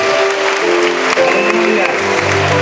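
Applause from a congregation at an ADEPR Kagarama church service in Rwanda, a dense, steady clatter of many hands filling the room for just under three seconds, with voices and a faint tonal hum blended underneath.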